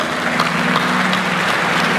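Audience applause at a Bharatiya Chhatra Sansad youth gathering, a full, close burst of many hands clapping steadily with a low hum running beneath, holding even from start to finish.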